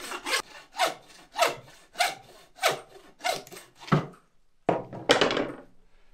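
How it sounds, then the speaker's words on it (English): A hand saw cutting through hog meat and bone during butchering, about eight steady rhythmic strokes, loud and close, then a short pause before two more rough strokes. "Cutting through the meat first. Let the saw do the work."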